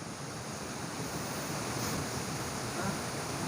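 Water from Khoiyachora waterfall in Sitakunda pours in a steady, dense broadband roar that holds constant throughout, close and full, with no voices over it.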